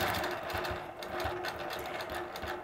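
A sewing machine stitches a scrolling free-motion quilt border, its needle running in a rapid, even mechanical chatter that stays close and steady throughout.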